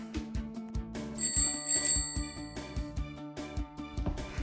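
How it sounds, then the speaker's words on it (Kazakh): A bicycle bell gives one bright, metallic ring with a lingering shimmer, set against cheerful rhythmic background music. "Велосипед."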